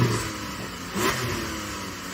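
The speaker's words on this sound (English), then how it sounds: "can you rev up your Porsche, please?" A Porsche sports car engine revs briefly at a drag-race line-up, a steady raspy drone with one short rise in pitch midway, heard close and without talk.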